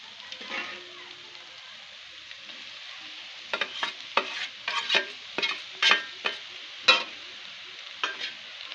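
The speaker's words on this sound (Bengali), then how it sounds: "ভালো করে ডিমটা মিশিয়ে নেব" Grated boiled egg being stirred into a frying spiced capsicum mixture makes a faint sizzle, then a rapid series of close scraping stirs and spatula knocks, with no voices.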